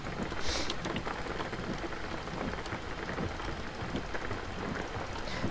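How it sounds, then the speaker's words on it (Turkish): Steady rain drums on a car's roof and body in the driving game Jalopy, a dense, even patter that runs throughout, close and fairly loud, with no voices. "Yağmur sesi çok güzel geliyor bu arada."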